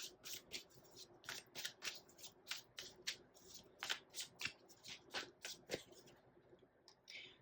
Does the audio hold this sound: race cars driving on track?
no